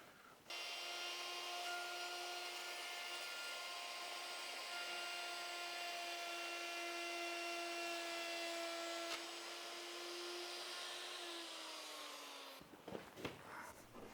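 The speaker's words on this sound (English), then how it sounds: "The router tore away a large part of the poorly supported plywood." Router cutting plywood in a boat-building workshop, a loud sustained high-pitched motor whine held for about twelve seconds before winding down, followed by brief clattering, nearby and with no talking.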